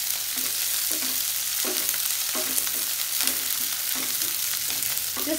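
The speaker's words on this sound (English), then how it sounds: "So fry these along with the onions." Onions with green and dry red chilies frying in a pan for a spinach fry, a steady loud sizzle with repeated soft stirring scrapes at regular intervals, no voices.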